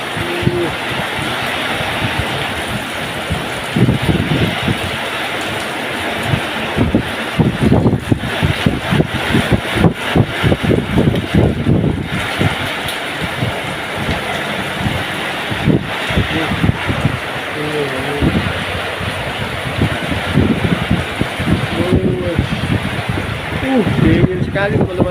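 Strong wind and rain outdoors keep up a dense, loud, continuous roar with gusty buffeting surges and short lulls throughout.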